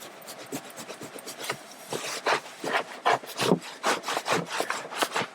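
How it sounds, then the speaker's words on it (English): Someone scrubs paint off a leather car seat with a brush, producing quick, close rasping strokes in an irregular rhythm, alone without talk. "Now if I want to scrub a little bit, that last little bit of paint comes off"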